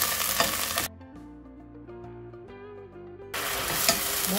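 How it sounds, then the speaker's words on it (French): Meat browning in a pan for a chorba gives short bursts of dense frying noise at the start and end, with a stretch of music in between. "je fais revenir ma viande, bien, pour qu'elle soit un peu saisie, dorée"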